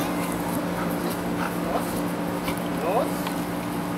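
A police K9 dog whimpers with thin, rising whines over a steady background hum, while people talk nearby at an officer's visit in Delray Beach, Florida.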